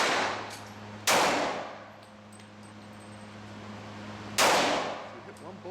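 Two loud, sharp pistol shots from a Glock 27 in .40 caliber at a shooting range, a few seconds apart, each with a brief ringing decay, over a low steady hum.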